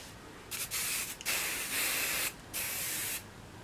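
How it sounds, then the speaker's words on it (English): Hairspray misted onto a hair bun in several bursts, the first two short and choppy, then two long steady hissing sprays with a brief pause between, close and fairly loud. "spray that bun into place"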